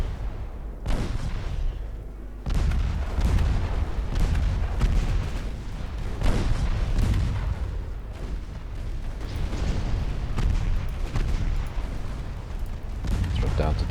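Secondary-battery naval guns, including 2-inch guns, fire in a 1956 battlecruiser and convoy battle in Ultimate Admiral Dreadnoughts. Heavy booms follow each other almost without pause, loud and rumbling, with sharp onsets standing out every second or two.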